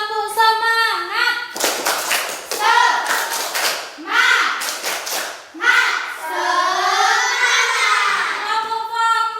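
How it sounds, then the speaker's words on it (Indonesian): Schoolchildren in a classroom perform a rhythmic clapping chant, bursts of claps alternating with chanted children's voices and sung phrases, close and lively throughout. "sekarang anak-anak tepuk semangat"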